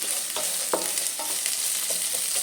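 Curry leaves, onion and dry red chillies frying in oil for a village-style sprouted horse gram sambar, a steady bubbling sizzle broken by several sharp crackles and stirring knocks.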